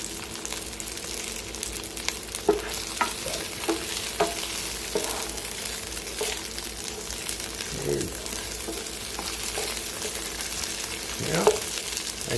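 A beef and peapod stir-fry sizzles steadily in a hot pan while it is scraped and moved back into a bowl, with occasional utensil clinks and scrapes over the constant frying hiss.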